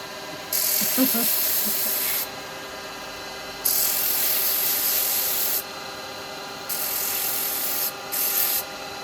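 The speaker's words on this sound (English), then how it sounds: "I'm just going to put my sanding arbor in there." Sanding arbor on a lathe sanding the bottom of a small turned wooden perfume pot, giving a steady hissing rub in four sustained passes separated by short gaps, close and fairly loud.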